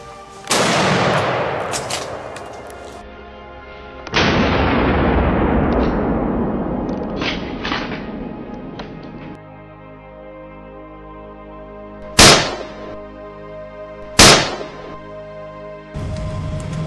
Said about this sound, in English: Then, gunshots rang out across the swamp.